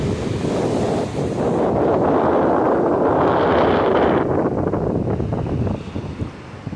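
Strong wind gusting hard across the microphone on Rosarito Beach in Mexico, a loud, steady roar mixed with surf that swells in the middle and eases near the end, with no voices.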